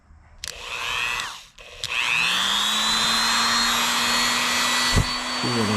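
A Dremel rotary tool grinds over a plugged hole in a Yamaha DT250A motorcycle gas tank, its high motor whine spinning up, briefly cutting out, then restarting and holding a steady, close, loud grinding tone.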